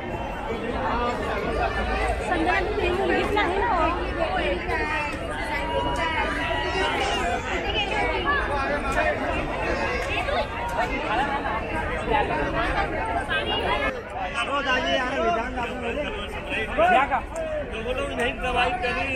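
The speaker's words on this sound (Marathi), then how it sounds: "नेहमीप्रमाणे गर्दी आहे." A dense crowd murmurs at the Gateway of India in Mumbai, facing the Taj hotel. Overlapping voices and babble carry on steadily, with nearby chatter mixed in.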